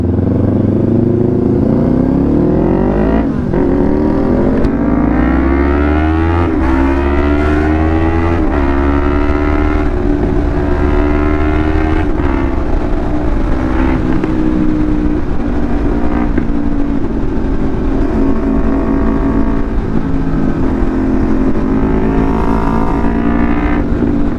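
A loud motorcycle engine roars up close, revving and shifting pitch as it accelerates and eases off, continuous throughout.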